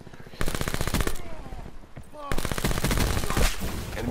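VMP submachine gun firing in Black Ops 4, loud rapid automatic bursts in two long strings separated by a short pause, up close and dominant, with a voice briefly talking over the fire.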